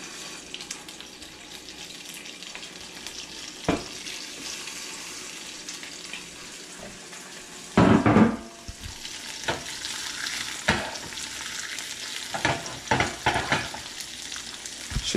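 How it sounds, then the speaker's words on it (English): Yellowfin croaker frying in a pan with a little olive oil, a steady soft sizzle broken by louder splashes and crackles as the fish is added and moved, with no voices. "We're gonna go ahead and add in our fish."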